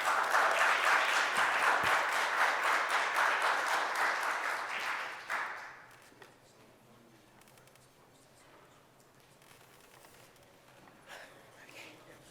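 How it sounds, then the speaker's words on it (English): Audience applause at a mayoral press conference on the food economy, loud sustained clapping for about five seconds that fades abruptly into quiet room tone with faint stray noises. "I knew that would get an applause"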